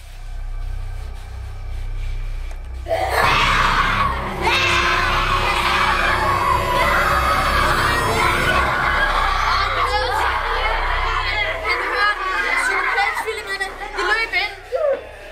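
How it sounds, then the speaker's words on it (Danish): Sound effect for a Danish horror audio drama set in a bunker: a loud, chaotic crowd of rabid children screaming and shrieking, kicking in suddenly after a quiet start and continuing throughout, with yells and whoops layered over one another. "Det var faktisk ikke psykopat-tvillingerne, man hørte skrige fra. Det var rabiesbørnene."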